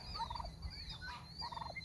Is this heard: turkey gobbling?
yes